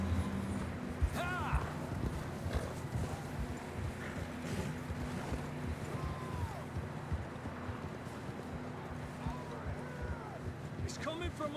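Horses' hooves clop along a trail in Red Dead Redemption 2, a steady rhythm under wind and a talking voice, with occasional other game sounds rising through the mix.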